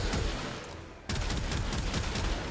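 Rapid continuous weapon fire from the Shedu in the game Warframe, a dense loud stream of shots that cuts out briefly near the middle and then resumes.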